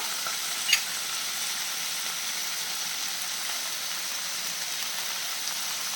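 Chicken with salt sizzles hard in a pan over high flame, a steady bright frying hiss with one sharp clink early on and no talk.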